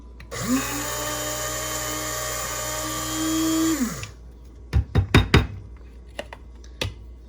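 An electric spice grinder whirs loudly for about four seconds, grinding roasted coriander seeds and black pepper for homemade garam masala, then stops, followed by a few sharp knocks and clatters of the jar.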